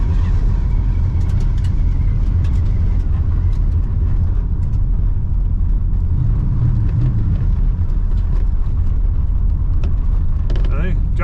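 A 1967 Pontiac Grand Prix convertible rolls along with a steady, loud low engine drone and road rumble, its pitch easing as it shifts into third, while a voice talks over it.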